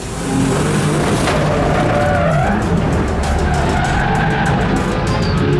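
Race cars at a Road America six-hour endurance race skid with squealing tires and roaring engines, a loud, continuous near-field wash of motor noise with rising whines throughout.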